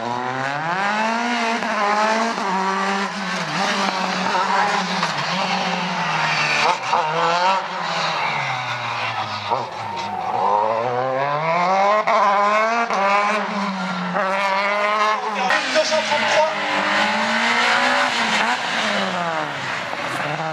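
A Dallara F302 single-seater race car at a slalom event brakes hard, its engine screaming loudly and continuously with rapid rising and falling revs as it downshifts and accelerates through the course.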